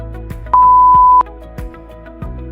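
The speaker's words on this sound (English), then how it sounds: "we can hear the buzzer sound with LED on." A sharp simulated electronic buzzer beep from a Tinkercad Arduino motion-detector circuit, one steady tone lasting under a second, surrounded by faint clicking noises.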